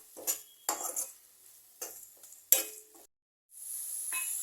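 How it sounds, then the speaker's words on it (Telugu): Red chilli and coriander powder frying in a pan, heard as a series of close scraping stirs and metal utensil clanks against the pan over a soft sizzle, with a short quiet gap before a steady hiss returns. "మొత్తం బాగా ఫ్రై అయ్యేంత వరకు ఫ్రై చేసుకుందాం"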